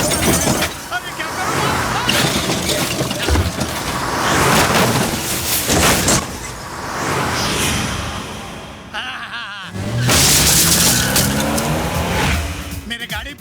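A driverless car, the Tarzan wonder car of a Bollywood action comedy, races along with loud revving engine and squealing tires, with a crash and clatter near the middle, while someone shouts over it throughout.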